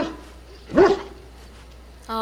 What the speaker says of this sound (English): He's just gonna bark the entire time.